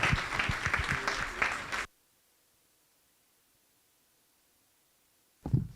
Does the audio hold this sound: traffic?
no